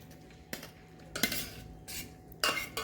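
Cooked rice tipped from a cooking pot into a kitchen strainer, heard as a few separate metallic clanks and scrapes of utensil against vessel, spaced apart and moderately close.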